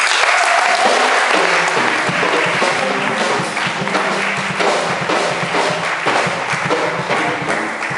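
A church congregation applauds to acclaim the Lord during a sermon, loud sustained clapping from many hands filling the space continuously, with no voices standing out.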